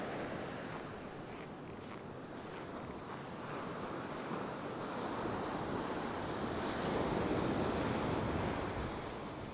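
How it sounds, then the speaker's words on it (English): Wind blows steadily across an open beach where someone is surf fishing, mixed with the constant wash of waves. The noise swells slightly louder toward the end, and no one speaks. "especially with the wind blowing this way"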